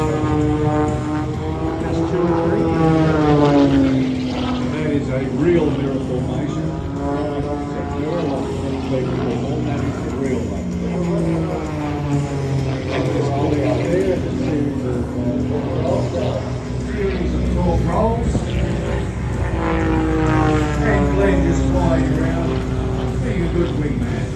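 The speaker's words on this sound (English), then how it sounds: "aircraft is spinning in a beautiful tail slide" A propeller aerobatic aircraft spinning through a tail slide at an airshow in Shellharbour, its engine droning and shifting pitch continuously, with an announcer talking over it throughout.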